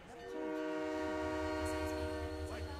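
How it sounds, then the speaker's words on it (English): A train in Halo 3 ODST approaches with a sustained horn blast over a low rumbling engine, loud and steady, with a few faint game sounds flickering behind it. "there was a train coming towards me"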